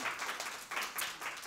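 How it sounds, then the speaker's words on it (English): Audience applause as a woman is brought onto the stage at a training session, soft, distant clapping sustained through the short moment. "So can we please give her a big round of applause"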